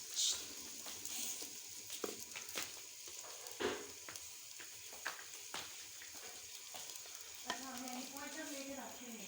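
Onions fry in a pot, a continuous close sizzle with scraping stirs and clinks from a utensil, and a voice speaks briefly near the end.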